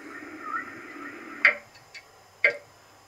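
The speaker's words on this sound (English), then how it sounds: "is a ticking clock." A ticking clock sound comes from a Roffie N600 white noise machine, with a few sharp, quiet ticks spaced about a second apart over a faint background hum.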